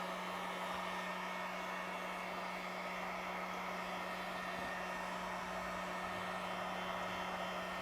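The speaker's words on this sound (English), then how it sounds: "I'm keeping the heat gun moving. I'm about 4 to 6 inches away from the car." Heat gun on low setting blowing steadily over a fender badge on a 2015-2020 Subaru WRX/STI, a constant even whooshing hum with a faint steady tone, alone and unvarying throughout.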